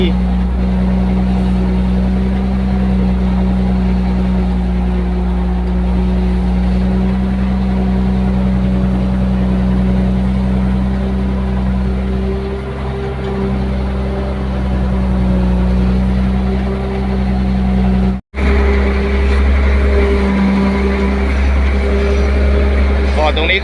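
A CAT 140G motor grader's diesel engine runs with a loud, steady low hum and drone close by, with a short cutout near the end; someone talks over it much of the time.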